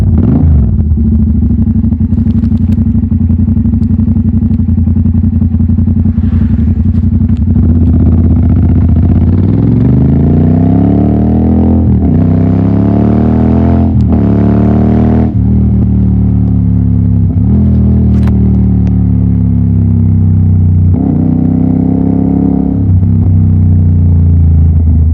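A motorcycle exhaust rumbles loud and close, idling steadily and then revving up and down in several rising and falling pulls, with no talk over it.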